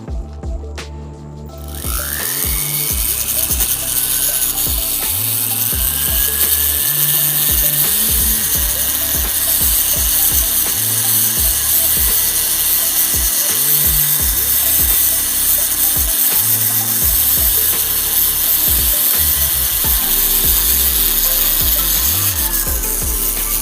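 A rotary tool spins a green rubber polishing wheel against a helix ring, a steady high whine running loud and continuous throughout, with rhythmic low thumps from a nearby motor or mechanism underneath.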